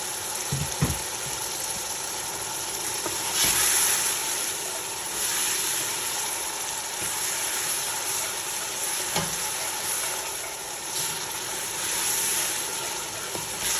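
Garlic-ginger paste sizzles and fries steadily in a pan while cooking chicken biryani, a loud, continuous crackling hiss with no voices.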